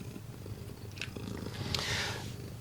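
A domestic cat purrs close by in a quiet room, a soft, steady low rumble that continues throughout, with a few faint rustles and no talking.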